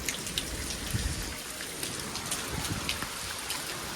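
Heavy rain that has kept falling for two days in a Gujarat lane, a dense continuous downpour with pattering drops and running water close by, without speech.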